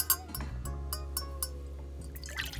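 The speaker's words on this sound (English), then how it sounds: "So I'm going to add 1 cup of water." A cup of water poured into vattayappam batter: a soft, close trickle with a few small drips, quiet against a low steady background hum.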